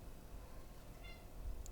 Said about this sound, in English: Pretty kitty.